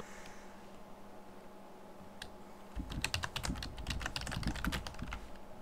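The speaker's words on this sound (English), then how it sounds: "You typing in chat?" Fast typing on a computer keyboard, a rapid run of close, crisp key clicks starting after a quiet stretch of room hum and continuing busily to the end.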